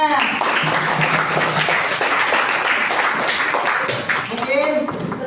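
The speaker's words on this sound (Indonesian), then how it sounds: "Tepuk tangan buat semuanya." A group at the close of a lesson gives a dense round of clapping, with voices mixed in over it.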